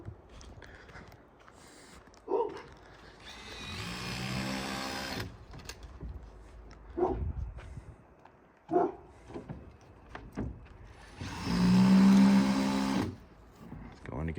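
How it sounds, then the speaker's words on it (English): A power tool drives screws into deck boards on a custom-framed house under construction. Two long whirring bursts stand out, with scattered knocks and thumps from the job site between them. "Screwing everything down."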